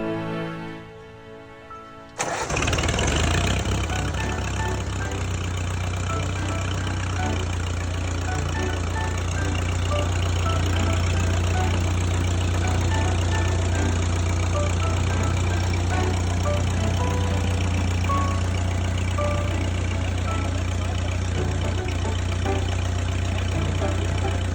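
A rebuilt World War II era tractor engine, fitted with a new clutch and throwout bearing, cranks briefly and catches. It settles into a loud, steady, low idle that holds throughout.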